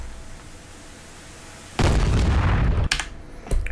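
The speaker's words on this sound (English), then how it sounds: "These guys seem to be a little bit disturbed by that explosion that happened next to them just then." A loud, close explosion from an AGM-114K Hellfire missile strike in the DCS flight simulator, seen from an AH-64D Apache over Afghanistan: a sudden broadband boom that rumbles on for about a second, followed by two sharper cracking bursts.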